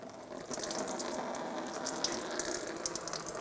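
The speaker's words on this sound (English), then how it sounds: "And start to drain the coolant." Coolant drains from the radiator of a 2000-2006 Toyota Tundra with the 4.7L V8 into a bucket beneath, a steady, fairly faint pouring and splashing that runs unbroken with no talk.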